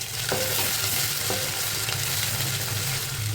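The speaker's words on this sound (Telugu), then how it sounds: "పచ్చివాసన పోయేంత వరకు ఫ్రై చేసుకోవాలి" Ginger garlic paste fries in hot oil while a spoon stirs it, giving a steady close sizzle with a couple of soft scraping strokes.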